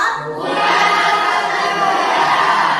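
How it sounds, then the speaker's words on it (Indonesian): A class of students in a school setting breaking into loud, close cheering and shouting with clapping mixed in, rising quickly and staying at a full, excited level for a few seconds. "tepuk tangan buat Endang."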